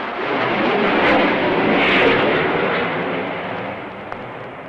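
A French military helicopter passes over a sailing ship near atomic testing grounds, a broad loud roar that swells and then slowly fades.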